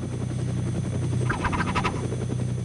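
A Metropolitan Police helicopter tails a Clio on a long car pursuit, its steady rotor and engine drone filling the air without a break. No one speaks.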